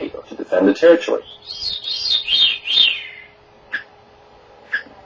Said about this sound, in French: Des spécialistes analysent les vocalisations des oiseaux dans l'espoir de comprendre pourquoi et comment ils chantent.